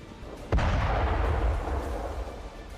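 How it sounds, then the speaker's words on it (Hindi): A single sharp, heavy blast from an air strike on Belgorod, Russia rings out, followed by a long deep rumble that slowly fades. "रूस का इलाका, जोरदार धमाका।"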